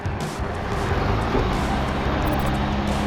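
Engine of a cheap 4x4 truck revving high in four-low, a steady loud drone with road-like rumble throughout, no speech over it.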